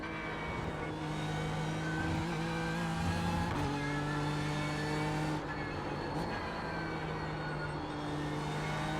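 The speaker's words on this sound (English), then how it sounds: "Engine's interesting sounds, quite quiet, very high pitched" A BMW M4 GT3 or Lamborghini Huracan GT3 Evo race car engine in the iRacing sim drones steadily with high-pitched harmonic tones, shifting pitch slightly as it revs and changes gear, continuous and fairly even in loudness.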